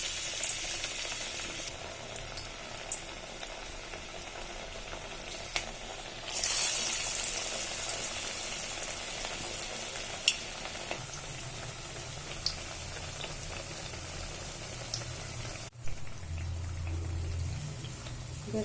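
Cabbage pakoda fries in hot oil with a steady, close hiss of sizzling. It swells louder partway through as more batter goes in, and a few light clicks of utensils sound over it.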